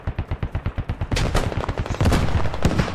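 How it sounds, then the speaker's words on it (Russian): Rapid bursts of gunfire and grenade blasts in the military shooter game Squad, loud and close: a regular run of sharp shots, then denser, overlapping firing and explosions with no break. "На гранатах там взрывы идут"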